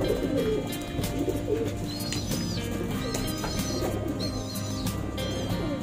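Several pigeons coo steadily in a loft, with soft, overlapping low calls layered over a constant murmur, while faint higher chirps rise briefly now and then.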